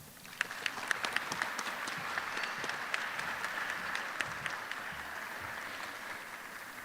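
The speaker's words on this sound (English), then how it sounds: "Let's give Paula one more round of applause, please." Nursing college graduation audience applauding, a broad even wash of many hands clapping in a large hall, moderately distant and sustained with a few sharper nearby claps.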